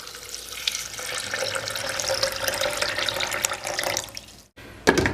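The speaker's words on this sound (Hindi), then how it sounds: "2 गिलास पानी डाल रहा हूँ" Two glasses of water pour into a blender jar, a steady close splashing stream that cuts off abruptly near the end before a short clunk.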